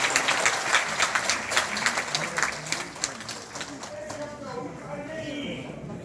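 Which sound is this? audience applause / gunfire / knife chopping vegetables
audience applause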